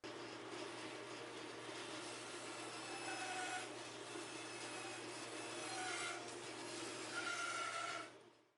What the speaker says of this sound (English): So now that we've got our piece rough cut on the bandsaw